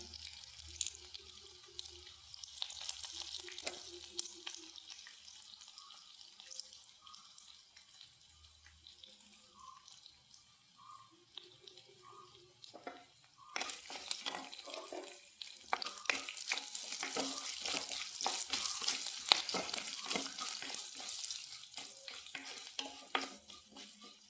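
Curry leaves hit hot oil while curd rice is cooked, setting off a quiet sizzle that swells into a louder, denser crackle partway through, with stirring scrapes and no voices.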